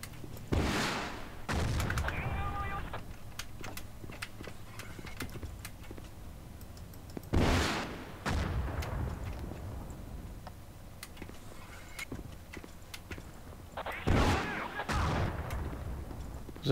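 Gunfire in the WWII shooter Battlefield 1942 on the Wake Island map, with several distinct bursts of shots and explosive blasts a few seconds apart over a steady battlefield background.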